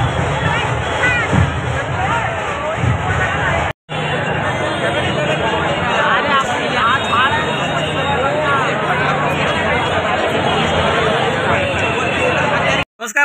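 A dense crowd at a Mumbai Ganpati arrival procession fills the air with constant overlapping voices and shouting, loud and close, broken by two brief dropouts.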